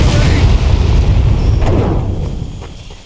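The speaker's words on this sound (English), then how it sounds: "They booby-trapped the place, Frank!" A booby trap going off in the World War II shooter Medal of Honor: Pacific Assault: a loud, sustained explosive boom with deep rumble that fills the moment and slowly fades toward the end.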